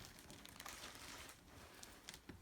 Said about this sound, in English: into one of these plastic bags